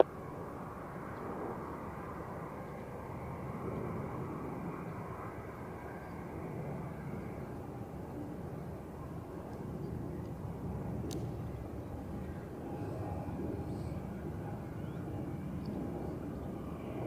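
Edelweiss airliner taking off at Zurich Airport, a faint, distant, steady jet roar holding evenly throughout with no voices.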